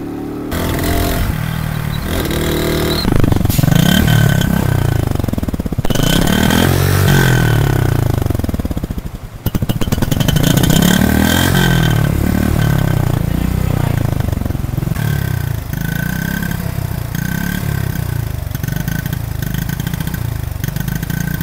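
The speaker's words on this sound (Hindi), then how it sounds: "जब प्रॉब्लम हो कि बाइक स्टार्टिंग में मिसिंग करे" Chinese motorcycle engine running with a misfire, a steady loud mid-pitched idle with uneven rough pulsing and a brief dip near the middle, heard close up with no talk.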